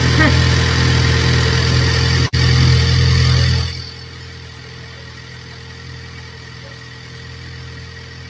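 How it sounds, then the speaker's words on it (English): A loud, steady Ford Bronco engine cold-start idle drones close by with a brief dropout, then cuts to a much quieter low hum. "So guys, here's the cold start."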